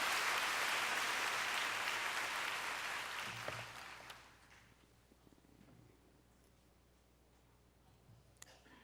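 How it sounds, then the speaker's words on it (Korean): Congregational applause at a church worship service, loud and sustained broadband clapping for about four seconds, then fading to a low murmur of room noise. "우리 하나님께 큰 박수 올려 돌리십시다"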